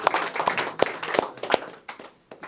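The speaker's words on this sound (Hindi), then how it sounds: "लड़कों के लिए तालियां हो जाए" A small audience claps for the boys at a cinematography workshop, with irregular, fairly close hand claps spread over a couple of seconds that thin out toward the end.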